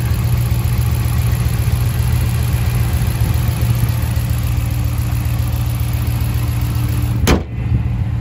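A Ram 1500 pickup truck engine idles smoothly and loudly up close, a steady even hum that holds throughout with a brief bump near the end.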